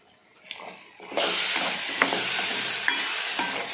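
Leaves hit hot oil and the sizzle jumps to a loud, steady hiss, with occasional sharp pops and stirring scrapes nearby.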